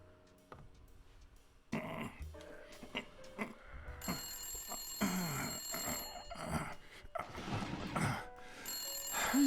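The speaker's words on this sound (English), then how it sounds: "why is that when the phone decided to ring?" Telephone ringing in the video game Blacksad: Under The Skin: repeated bright bell-like trills in bursts, moderately loud, mixed with in-game music and ambient noise.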